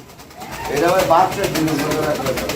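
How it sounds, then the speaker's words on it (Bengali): Fancy pigeons at a market stall for breeding pairs, with cooing in the background and a louder burst in the middle. It sits under steady low chatter and speech. "জলিল ভাই আমরা এখানে কি কবুতর জোড়াটা দেখতে পাচ্ছি"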